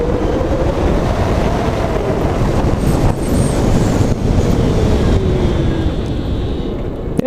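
A Zero SR electric motorbike accelerates at full throttle: its motor whine climbs steadily in pitch over loud, constant wind rush, with no engine rumble.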